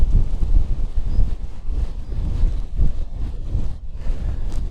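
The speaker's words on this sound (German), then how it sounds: "Isn't that the magic to hear the wind in the trees?" Gusty wind rushes through trees and buffets steadily, a low rumbling blow rising and falling in waves, with no talking, on a coastal walk between Palafrugell and Calella on the Costa Brava, Spain.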